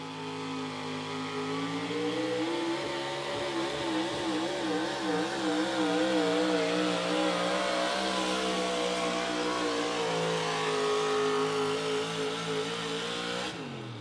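A modified 4x4 pulling truck roars at a truck pull event, its loud engine revving continuously for about fourteen seconds, the pitch wavering up and down as it strains under load before cutting off abruptly.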